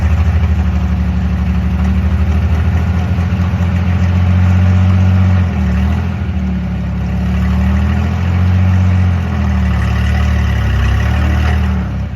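A 1946 Hudson car engine idles roughly, a loud, close, continuous low rumble with slight unsteady swells in speed and no voices throughout.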